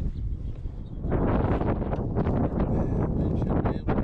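Strong wind gusts buffet the microphone outdoors around a Starlink satellite dish, a rough low roar that swells after the first second and keeps surging in uneven bursts.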